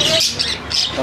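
Caged birds at the Multan bird market squawk loudly and close by, with repeated harsh, shrill calls overlapping through the moment.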